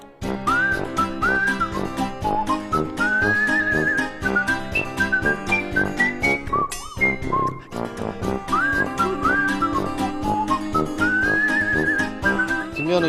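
Melodic human whistling carries a tune over background music, bright sliding notes in phrases that pause briefly midway, loud and continuous with no talking.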